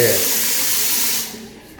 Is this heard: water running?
yes